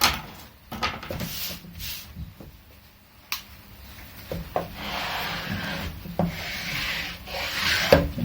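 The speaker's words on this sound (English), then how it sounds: "The bottom of the super glue can does work nicely for burnishing down like that." Wood on an early custom guitar under rebuild is burnished with the bottom of a super glue can, giving close, dry rubbing strokes in uneven bursts with occasional sharp clicks.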